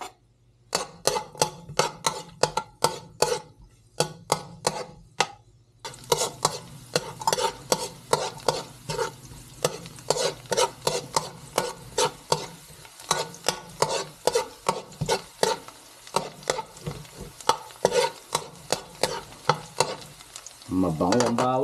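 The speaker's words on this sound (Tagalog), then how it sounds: "Igisa natin yung bawang muna." Garlic sautéing in a pan for dinuguan, steady sizzling frying with rhythmic stirring scrapes of a utensil against the pan, close and continuous throughout.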